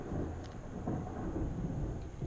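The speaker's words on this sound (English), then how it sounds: "I hope you just heard that thunder." Thunder rumbles low and continuous outdoors, a heavy distant roll that swells slightly mid-way, with faint rain-like hiss above and no talking.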